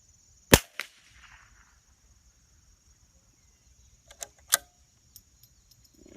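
A CZ 455 American .22 LR rifle fires at a range, a few sharp sudden cracks spread over several seconds with quieter pops between them, heard against a constant high insect-like drone outdoors.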